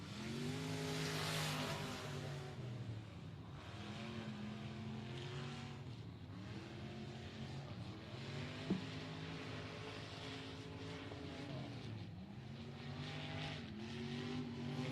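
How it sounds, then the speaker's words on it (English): Race car number 75, driven by Matt Castle Jr., roars on the throttle through turns 3 and 4 at 105 Speedway, its engine note rising and falling steadily as it pulls out of each corner, loud and close throughout. "You hear that 75 working the throttle here through turns 3 and 4"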